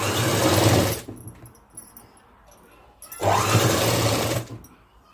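Sewing machine stitching fabric for a long frock, two loud whirring bursts of about a second each separated by a quieter pause with faint handling noise.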